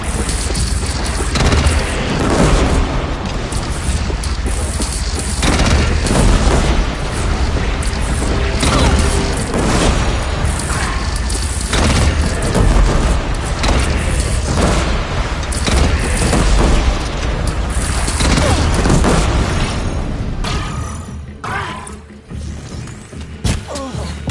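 Cannon blasts and explosions boom repeatedly during a bandit clan battle in Horizon Zero Dawn Remastered. Loud, heavy impacts and crashes pile up over a long stretch, then thin out toward the end.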